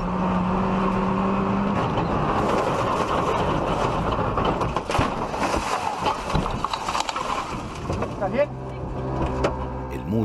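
Rally car engine roaring along a stage at the Vuelta de la Manzana rally, a loud sustained mechanical drone with shifting pitch and a rising whine near the end, mixed with crowd and commentary-like voices.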